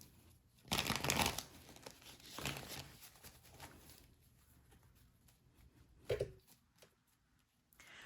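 A tarot deck is shuffled by hand, quiet papery riffles and crinkly bursts coming in a few short clusters with soft shuffling between them and no talking.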